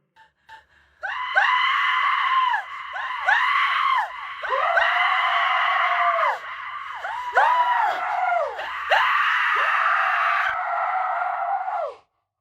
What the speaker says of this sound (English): With such knowing, I screamed, and my scream filled all creation.